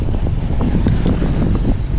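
Strong wind roars across the microphone during a gravel bike race, a loud, continuous buffeting rumble with gusty fluctuations and no voices.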